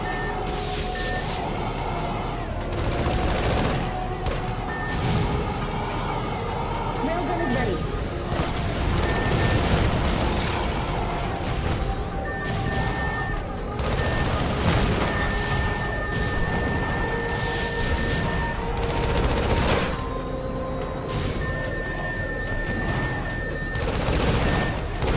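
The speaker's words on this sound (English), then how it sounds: "So all you can do is spamming missiles, huh?" Repeated missile launches and explosions boom in rapid succession during an aerial mecha battle in the video game Project Nimbus, a dense, continuous barrage layered with music and occasional talk.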